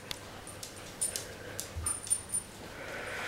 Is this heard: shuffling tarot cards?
no